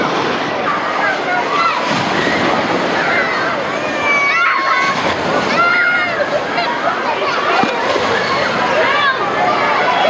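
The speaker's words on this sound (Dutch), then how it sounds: "De kwaliteit van de golven hier zijn al beter dan in Centerparks." Waves surge and splash loudly and continuously in an indoor wave pool at a swimming complex in Oss, a dense, echoing wash of water with people talking over it.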